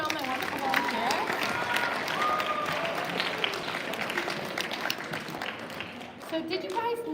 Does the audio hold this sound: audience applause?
yes